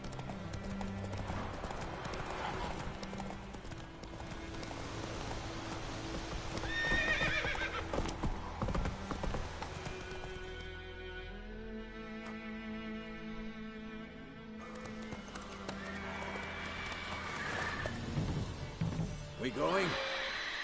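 Horse galloping and neighing in The Witcher 3 video game, rhythmic hoof clip-clop under game music, with loud whinnies near the middle and end and brief character voices.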